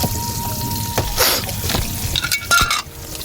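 Fish frying in a pan in the Sundarbans, with close sizzling under scraping and clinking of a utensil against the pan, marked by a few sharper knocks and stirring movements.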